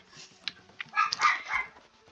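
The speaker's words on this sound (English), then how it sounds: "There's the little barky boy. Just barking away once more." A small dog barks in a video game, several sharp yips spaced irregularly, then a longer cluster of close, loud barks before trailing off, heard alone.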